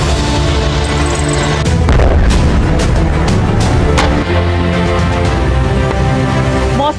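Missile and rocket strikes in a war zone, a dense, continuous roar of loud booms and blasts with sharp cracks layered over a constant rumbling din, no voices.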